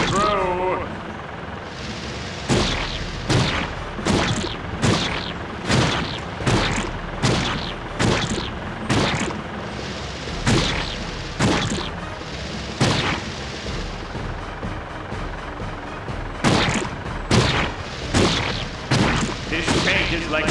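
Tank cannon firing in the SpongeBob's Atlantis SquarePantis video game, a long run of loud booming shots roughly every second, with a few brief pauses, over game noise and voices.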